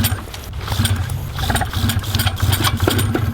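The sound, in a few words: Fly Products Rider paramotor engine starting on first pull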